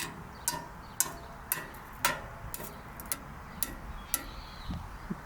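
A metal blade taps a grill in a steady, even rhythm, each strike a bright, quiet click with a short metallic ring.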